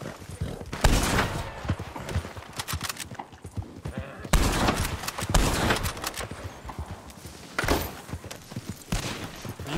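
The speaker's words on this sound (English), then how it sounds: "Me and Keith kept shooting him off the wagon every time they got on it" Gunfire in a video game during a wagon chase, with rapid bursts of loud shots repeating over busy action noise that includes horse hooves.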